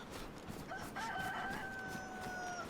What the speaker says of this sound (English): oh, do you hear that chicken?